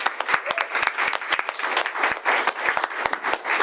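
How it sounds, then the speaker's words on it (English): Applause for a retiring board member at a full community board meeting: scattered, distinct claps from a modest crowd, fairly close and steady throughout, with no voices. "So I want to give a big round of applause for everything he's done."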